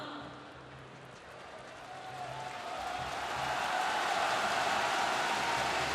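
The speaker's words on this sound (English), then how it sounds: "The crowd responds to Lin Dan's name." The crowd in a badminton arena at the 2012 Thomas Cup semifinal applauds a player's introduction. After a quieter start with a low voice, the clapping and cheering swell and hold as a loud, dense roar.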